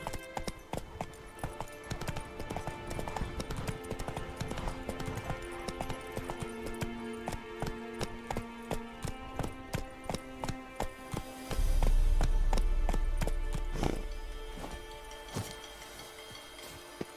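Horse hooves gallop in The Witcher 3, a fast rhythmic clip-clop close up that runs steadily, with a louder low rumble swelling briefly near the end before the hoofbeats continue.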